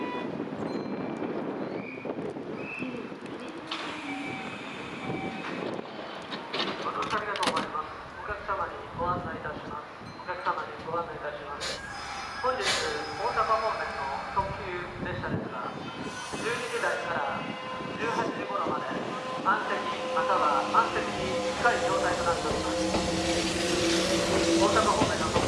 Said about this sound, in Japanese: 快速急行が発車します。